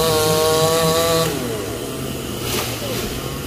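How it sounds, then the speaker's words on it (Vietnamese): A chainsaw cuts a horizontal tree branch, its engine whining at a high steady pitch before dropping into a lower, labouring drone as the chain bites into the wood, loud and close. "Anh Trí đang leo xuống đi cưa cái nhánh ngang đó nha các bạn."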